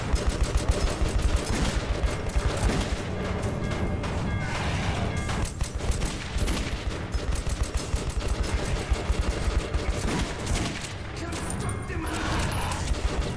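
Sustained automatic gunfire rattles through a Metro 2033 Redux firefight, rapid dense bursts with crashing impacts running nearly continuously, with a voice talking over parts of it.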